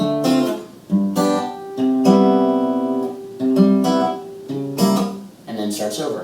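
Acoustic guitar playing a strummed and picked pattern, clear close chords in repeating phrases with short gaps between them, alone without talk.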